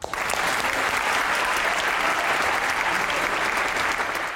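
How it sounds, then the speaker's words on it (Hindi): Studio audience applause on the comedy show Hasna Mana Hai, a dense, steady burst of many hands clapping at full level for the whole stretch, with no talk over it. "हंसना मना पे अब ताली बजाएं।"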